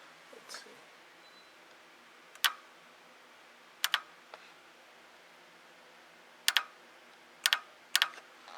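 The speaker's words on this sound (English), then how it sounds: "this one, just right off the bat, is actually clicking like I normally would expect the solenoids to click" Solenoid on a 2017 Mitsubishi Mirage 1.2L, with code P0016 and a rough-running engine, gives sharp, crisp clicks, some single and some in quick pairs, spaced irregularly over a quiet background hiss.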